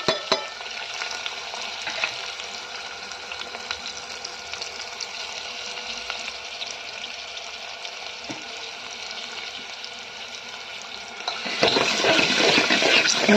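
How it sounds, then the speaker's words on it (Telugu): Green chillies and chopped onion drop into hot oil with fried tempering seeds, a steady close sizzle that bursts louder near the end as more goes into the pan. "ఇప్పుడు ఇందులో మనం ముందుగా కట్ చేసి పెట్టుకున్న పచ్చిమిర్చి, ఉల్లిగడ్డ వేసేస్తున్నాను."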